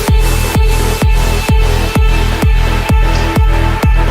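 Uplifting trance intro drop produced in FL Studio, with a heavy four-on-the-floor kick thumping about twice a second under sustained synth pads and a bright high layer, loud and steady with no voices.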